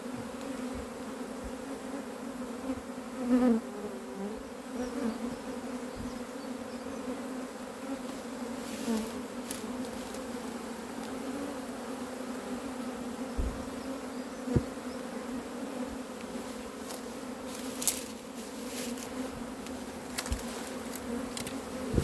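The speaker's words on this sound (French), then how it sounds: "Le gros des abeilles est dans le carton. Ou sur le carton, mais ça va battre le rappel." A swarm of honey bees clusters in and around a cardboard box during a swarm capture, their buzzing a low, continuous drone with occasional closer bees passing by, no voices.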